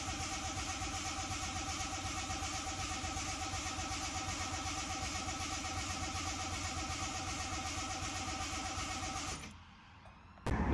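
A barn-find 1978-era Ford Capri 3.0 Ghia engine cranking steadily on the starter for about nine seconds without firing, a rhythmic loud mechanical churn that stops abruptly, followed by a brief click.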